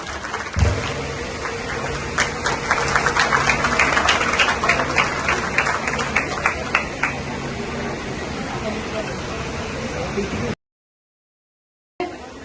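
An audience at a Women's Day event bursts into loud, sustained clapping for a makeup competition judge, the applause running for about ten seconds with a voice over it before cutting off.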